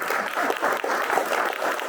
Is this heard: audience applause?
yes